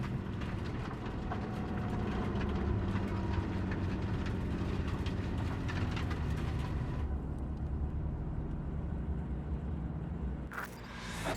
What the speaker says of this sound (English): maybe we should just hijack the train